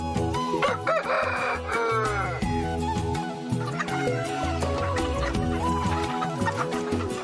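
A rooster crows loudly on a poultry farm over a busy background of music, with other fowl, including ornamental and fighting breeds, clucking around it.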